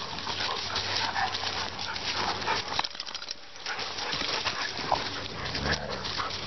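Playful dogs from a Labrador and Rhodesian Ridgeback pack growl and whimper at moderate distance in a continuous scuffling stretch, with a brief lull midway; no speech over it.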